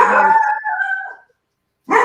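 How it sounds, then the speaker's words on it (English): A dog howls close by in one drawn-out, wavering call that fades away, and a short bark-like burst follows after a brief silence. "Oh, sorry, that's my dog."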